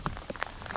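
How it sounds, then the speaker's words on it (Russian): Heavy rain falls in a downpour during a fishing trip, pattering in dense, irregular drops on nearby surfaces, close and fairly loud. "Так что подождем мы этот ливень."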